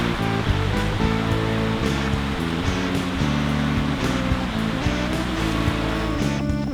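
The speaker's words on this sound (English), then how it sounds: "I'm sitting by this pretty little creek" A pretty little creek along the Great Allegheny Passage trail runs steadily close by, a constant full rush of flowing water with a bubbling texture and no voices.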